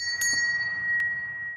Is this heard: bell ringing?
yes